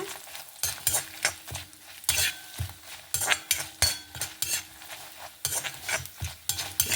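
Chana dal roasting in a pan: a spatula scrapes and stirs in repeated, uneven strokes over a soft, faint sizzle, with no voices.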